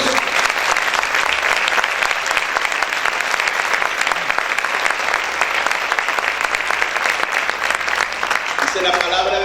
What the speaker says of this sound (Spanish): ¿Cuántos aplauden fuerte al Señor por eso?